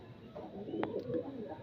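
A pigeon with a cold gives a short, low murmuring coo close by, with a faint voice briefly underneath.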